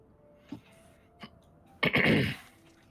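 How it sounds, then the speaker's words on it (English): Two small throat sounds followed by a louder, longer throat clearing near the end, in an otherwise quiet room. "I sure do love clearing my throat constantly."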